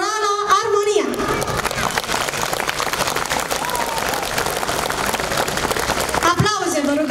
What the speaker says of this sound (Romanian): Aplauze, vă rugăm! Aplauze, aplauze, aplauze, aplauze!